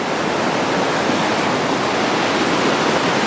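The San Gabriel River rushes after recent rains, a loud, continuous broadband roar of fast water that stays steady from start to finish.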